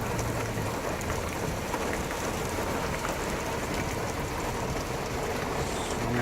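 Steady rain falling outdoors during a run, a continuous broadband hiss of drops spattering on surfaces, close and even throughout with no talking.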